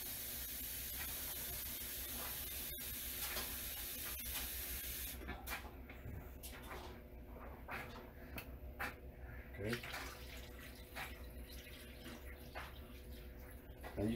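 Water pours into a pot for stewing pork neckbones, a steady spraying hiss that runs throughout with a few clinks and splashes, under intermittent talk.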